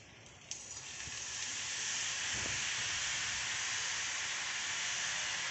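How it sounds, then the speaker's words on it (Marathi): Sev dough dropped into hot oil starts sizzling right after a small splash, swelling into a steady, loud frying hiss that holds evenly to the end. "आता आपलं तेल तापलंय, तर मी शेव सोडते।"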